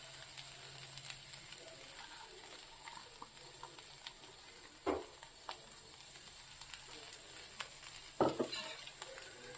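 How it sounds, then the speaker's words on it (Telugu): Cluster beans frying in a pan with spices while being stirred: a soft continuous sizzle with occasional sharp scraping clicks of the spoon against the pan, fairly quiet. "ఒక్క 2 మినిట్స్ కొంచెం అలా అటు ఇటు తిప్పేసేసి తీసేసుకోవటమే అన్నమాట"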